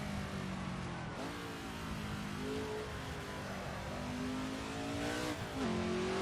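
A car engine drones steadily, its pitch rising and dropping as it shifts up through the gears, heard from inside the cabin.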